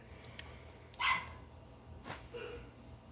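A puppy barks indoors, giving a couple of short, faint yips at a distance with quiet room noise between them.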